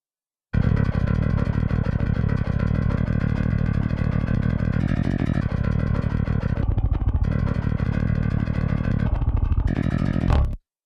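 Programmed MIDI bass played through a DI with plugins bypassed and notes at lower velocity, for a particular band's style of tone: a dense, continuous low-end riff sustained for about ten seconds, steady and loud, with no talk.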